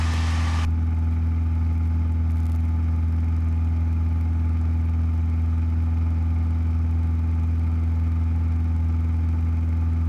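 A Cessna 172 engine drones steadily and loudly inside the cockpit on a night cross-country flight, a constant low hum with a brief brighter burst at the very start as the throttle moves.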